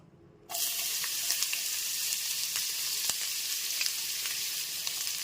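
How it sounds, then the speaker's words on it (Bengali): Chopped onions hit hot white oil and burst into a loud, steady sizzle that holds throughout, with small crackling pops scattered across it and no talking. "গ্যাসের ফ্লেমটা মিডিয়ামে রেখে পেঁয়াজ কুচিটা ভেজে নেব"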